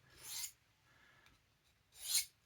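A knife blade is drawn through a small branded EDC knife sharpener in two separate rasping strokes, close and crisp, with a quiet pause between them and no talking.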